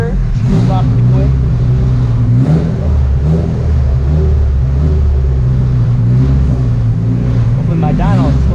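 Honda Integra engine revving hard on a dyno, a loud sustained roar with rising and falling pitch sweeps, and voices faintly audible beneath.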